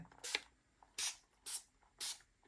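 Four short hissing bursts of a spray bottle misting water onto a mixed media art piece, spaced about half a second apart, close and fairly soft.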